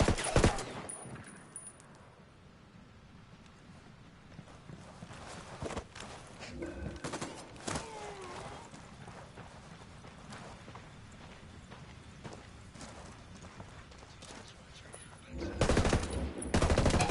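Automatic gunfire and scattered shots in a Ghost Recon Wildlands firefight against Santa Blanca cartel forces, with loud bursts near the start and end and quieter crackling shots, footsteps and movement in between.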